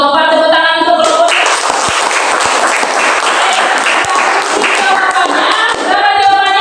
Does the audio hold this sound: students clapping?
yes